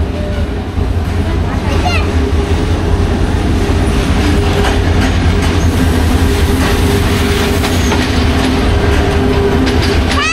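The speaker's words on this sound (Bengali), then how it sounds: "জয়ন্তিকা এক্সপ্রেস চলে আসছে" The Jayantika Express passenger train from Sylhet pulls into a station with a loud, continuous rumble, clattering wheels and faint squeals, all very close, while people talk nearby.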